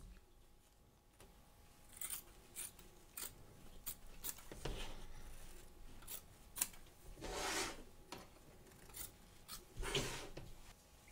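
Scissors snip away excess quilt batting around a stitched edge in a series of separate cuts, some sharp and brief, others longer rasping strokes, close by in a quiet room.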